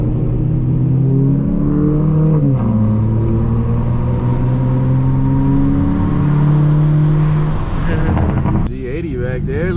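Cars pulling up to a car meet rev their engines loudly, with rising and falling engine pitches and a steady rumble, while people talk over the noise close by.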